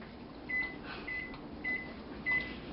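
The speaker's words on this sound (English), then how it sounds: "birthday girl's mommy is going to work the microwave for us." Microwave oven running to melt chocolate in a bowl, a steady low hum with soft periodic whirring swells, quiet and close.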